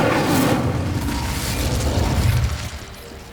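An Incendio fire spell is cast in Hogwarts Legacy, a loud burst of roaring, crackling flame that holds for a couple of seconds, then fades, with no talking.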